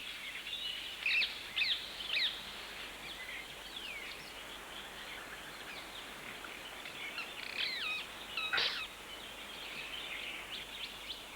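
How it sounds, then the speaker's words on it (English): Rose-ringed parakeets and jungle mynas chirp and call among flowering trees in a nature setting, scattered bright calls over a steady faint background hiss, moderately distant. "The rose-ringed parakeet and the jungle myna appear to be fairly amicable at this time of year"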